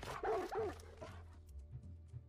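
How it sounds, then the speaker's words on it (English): A dog in the video game Far Cry 6 gives a couple of quick, close barks near the start, followed by a quieter low background hum. "I feel like me and this dog can get on."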